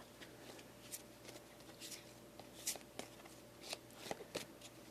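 Oracle cards riffle and slap softly in quick bursts, a faint close shuffle repeated several times in a quiet room.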